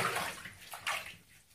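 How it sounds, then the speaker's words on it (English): A dog getting its first bath, with water sloshing and splashing in a tub; a fairly steady wash of water noise with a brief louder splash near the end. "Then y'all put me in a bunch of water."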